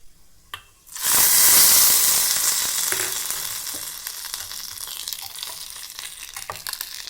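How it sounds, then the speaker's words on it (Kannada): Dried chillies, lentils, mustard seeds and curry leaves drop into hot oil for a chutney tempering, bursting into a loud, steady sizzle that gradually settles into a crackling fry with occasional pops, no voices. "ಒಣಮೆಣ್ಸಿನ್ಕಾಯಿ ಬೇಳೆ ಸ್ವಲ್ಪ ಸಾಸಿವೆ ಕರಿಬೇವು ಇದಿಷ್ಟು ಹಾಕಿ ಒಗ್ಗರಣೆ ಹಾಕ್ಕೊಂಡ್ರೆ"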